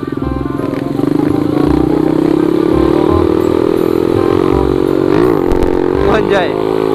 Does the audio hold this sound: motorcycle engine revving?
yes